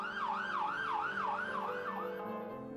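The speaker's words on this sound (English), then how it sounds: "I hear a siren in the distance, and the sound fills me with fear of something that may happen" A wailing emergency siren rises and falls in regular sweeps, heard at a distance but clear and steady, fading slightly toward the end.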